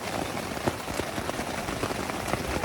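A heavy downpour with hail drums steadily on a camping tent pitched by a lakeside in Arizona, a dense, continuous close patter with sharper individual hits scattered throughout.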